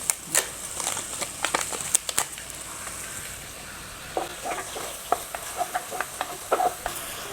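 Ginger garlic paste, curry leaves and a bay leaf fry in hot oil during Sunday cooking, giving a steady faint sizzle broken by repeated sharp stirring scrapes and crackles, with no talking.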